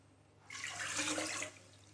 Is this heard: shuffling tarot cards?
no